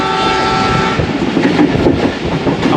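The Allama Iqbal Express, a Pakistani passenger train running from Karachi to Raiwind, rumbles loudly and steadily along the rails. A sustained horn tone sounds at the start, and the wheels clatter throughout.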